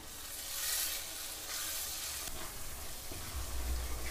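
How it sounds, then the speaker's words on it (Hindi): Ground spice masala with cumin, coriander and red chilli powders being stirred and roasted in a pan for a jackfruit curry, a soft continuous sizzle with scraping stirs, close and without speech. "सभी मसाला को मिलाते हुए 2 से 3 मिनट भूनना है"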